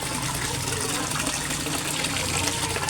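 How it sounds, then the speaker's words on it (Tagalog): An Aquaspeed submersible pump in a koi pond pushes out a steady, noisy gush of water that stays even and close throughout. "So, ang brand niyan guys ay Aquaspeed Submersible Pump."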